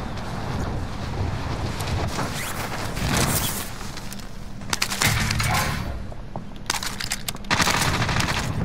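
AK-47U fire in the Warzone video game rattles in long, dense automatic bursts with brief pauses, loud and continuous against a rough, windy background.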